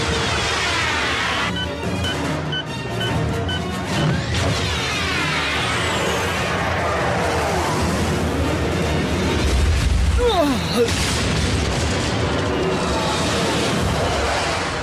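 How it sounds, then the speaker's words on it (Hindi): A dense, chaotic blast of booms, crashes and debris rolls on continuously, loud and layered like an animated action-scene explosion with sweeping effects, from the cartoon Transformers Prime. "क्यों, कैसा लगा ये धमाका?"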